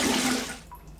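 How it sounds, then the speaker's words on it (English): Cold water runs from a tap for a quick rinse, a loud splashing rush for about half a second before it cuts off, leaving a few faint drips. "let me have a quick cold water rinse."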